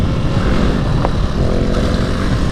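A Brozz 250 Chinese dual sport motorcycle roars loudly and steadily through a second gear wheelie on a forest trail, engine noise close and continuous with no talking.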